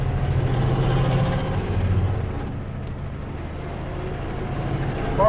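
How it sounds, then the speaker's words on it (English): A chip truck pulls in to collect sawdust at a sawmill near South Slocan, its engine rumbling low and steady, with a brief hiss of air brakes partway through. "Chip truck coming in to pick up sawdust."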